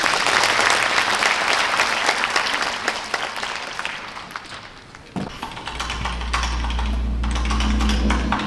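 Sustained audience applause fills a hall at a 104th March 1st Independence Movement Day ceremony at Cheongju Arts Center, dense clapping fading slightly before a low musical drone begins beneath it.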